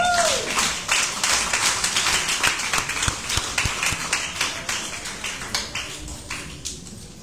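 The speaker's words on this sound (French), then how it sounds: "Ovation aux mamans encore ce matin." A church congregation applauds the mothers in a sustained ovation of many hands clapping, steady and fairly even, gradually thinning toward the end.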